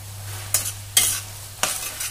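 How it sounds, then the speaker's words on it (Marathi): A spatula stirs chopped chapati pieces through sautéed vegetables and spices in a hot pan, three or four scraping strokes over a low sizzle and a steady low hum. "आणि हे व्यवस्थित मिक्स करून घेऊयात।"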